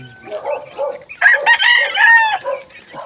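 A gamecock rooster crows loudly and close by, a full cock-a-doodle-doo call following a few softer clucking sounds.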